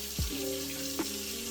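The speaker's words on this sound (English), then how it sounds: "let's turn on the water by pushing this back in" Water runs from a newly installed kitchen sink faucet as a steady, even hiss. Two brief low thumps sound from the fixture near the start.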